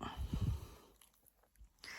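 A pet dog bites and chews on its owner's hand at bedtime, giving a few soft, close crunching and gnawing sounds in a short burst before quieting.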